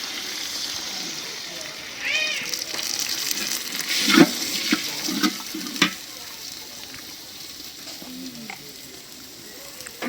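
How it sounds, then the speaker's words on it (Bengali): Water poured into spices frying in a pan, a rising hiss and bubbling surge over a steady sizzle, with stirring clatter and a sharp clank midway, then a quieter simmering crackle. "এখন একটু পানি দিয়ে দেই মশলা কষানোর জন্য"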